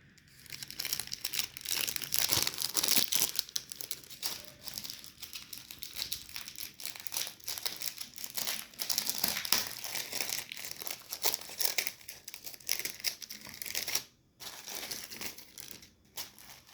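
A plastic bag rustling and crinkling continuously as items are handled inside it, loud, close and steady for a long stretch, with a short pause near the end.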